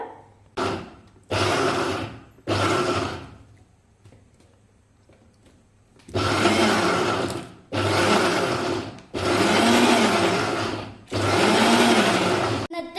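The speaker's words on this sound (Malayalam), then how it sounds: "ഇനി ഇതെല്ലാം കൂടെ ഒന്ന് ക്രഷ് ചെയ്തെടുക്കാം നമുക്ക്." A kitchen blender crushes a packet of Horlicks with sugar for a shake, roaring in three short pulses, then after a pause four longer, loud whirring runs separated by brief gaps.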